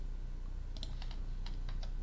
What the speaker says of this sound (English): I'm going to hold down D and V on my keyboard.